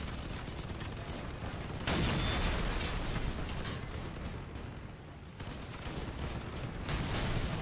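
Gunfire hammering a vehicle in the Crossout combat game, heard as a dense, continuous crackle of rapid hits and bursts under a rumbling engine, loudest in the middle stretch, with no talk.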